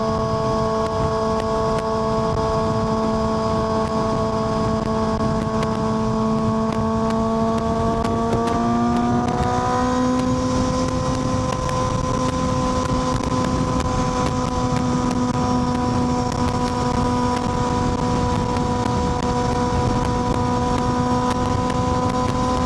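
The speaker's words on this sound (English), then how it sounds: "man, does this bike sound amazing" A motorcycle ridden along a busy multi-lane road gives a steady, close engine drone that shifts pitch partway through as the revs change, with constant wind rush over the microphone.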